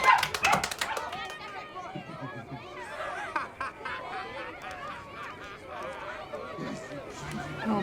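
Several puppies barking and yipping while they play and run about at a party, the light barks scattered under talking and background noise.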